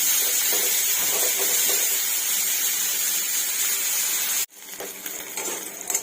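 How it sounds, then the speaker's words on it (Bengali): Bitter gourd frying in a pan over a gas flame gives a steady, dense sizzling hiss that cuts off abruptly near the end, leaving a quieter, uneven crackle. "আস্তে আস্তে আটকে দিয়ে দিয়ে ভাজবো"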